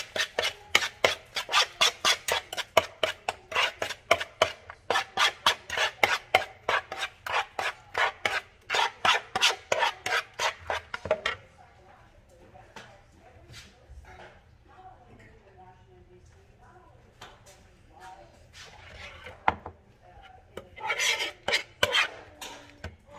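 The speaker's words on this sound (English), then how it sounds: "I'm just mixing this up" Rhythmic scraping and rubbing of a utensil against a dish as a cheeseburger casserole is mixed, loud and steady at first, then giving way to quieter clinks and a dog's sounds before a few final scrapes.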